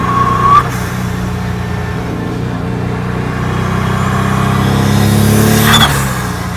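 A Formula Ford EcoBoost race car engine drones loud and steady as turbo boost rises, a dense low mechanical roar heard from close by, swelling slightly toward the end with a short whistle near the start and again near the close.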